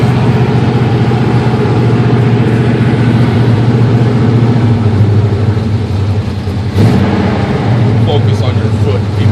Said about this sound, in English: She doesn't idle too good when she's cold. So I gotta keep my foot on the gas.